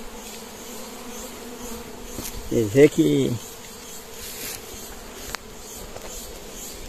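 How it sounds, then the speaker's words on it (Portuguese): Italian honeybees buzz around a wild hive in a hollow in the Caatinga scrubland during honey hunting, a steady swarm hum with a louder close pass of buzzing bees midway, while someone speaks briefly. "A italiana tem bastante abelha"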